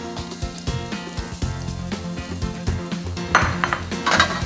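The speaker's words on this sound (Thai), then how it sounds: "ผัดกุ้งนะครับให้พอสุก" Fresh shrimp is stir-fried in a pan for pad thai, with rapid clanks and scrapes of a metal utensil against the pan over a soft sizzle, close up and loud, and no one speaking.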